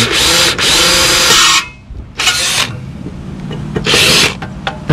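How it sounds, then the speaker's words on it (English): A power drill whirs in three loud bursts, separated by short pauses, drilling a pilot hole with a small bit up close during an RV water filter install. "I'm going to drill a pilot hole with a smaller drill bit"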